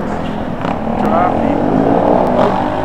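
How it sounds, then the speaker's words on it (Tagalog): Heavy Saturday-afternoon road traffic on EDSA, heard from a scrambler motorcycle: a loud steady roar of engines and passing vehicles, rising a little midway, with a person talking over it. "Grabe traffic sa EDSA."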